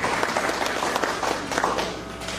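Wedding guests applaud together, a dense steady patter of many hands clapping at close to moderate distance, sustained throughout without a break.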